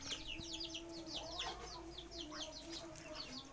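Muscovy ducklings peep and chirp rapidly in a dense, continuous chorus at night in their pen, fairly close, with a low steady background hum underneath.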